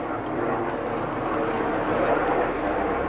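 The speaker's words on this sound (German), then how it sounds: "Und Hubschraubertag." A helicopter passing overhead makes a continuous broadband rumble, steady and moderately loud throughout, with no distinct blade chop standing out.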